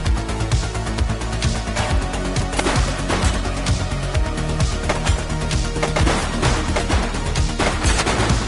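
Sustained automatic gunfire in the police video game The Precinct, a long, loud run of rapid repeated shots with sharp, regular cracks throughout, no talk over it.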